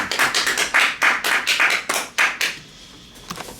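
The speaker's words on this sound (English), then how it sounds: "Let's give him a hand clap." A group claps hands together at a church gathering, a brisk run of loud, close claps that thins out and fades near the end.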